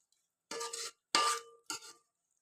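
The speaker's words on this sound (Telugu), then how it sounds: "పెరుగంతా మంచిగా స్పైసెస్తో యాడ్ అవ్వాలి కదా, సో అందుకనేసి ఇట్లా మంచిగా కలుపుకోవాలి ఒకసారి." Yogurt is being mixed with spices for egg biryani, giving three short close scraping swishes of a utensil through the thick mixture in a bowl, quiet, with brief pauses between strokes and no talking.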